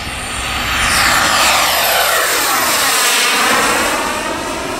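A radio-controlled turbine jet model plane comes in to land with flaps down, its high-pitched jet whine swelling as it passes close and then easing slightly as it moves on, with no talking.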